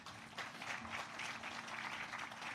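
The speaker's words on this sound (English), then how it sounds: "Let's give him another round of applause." An audience applauds steadily at an evening tribute event, a dense, even wash of clapping that holds at moderate level throughout without a break.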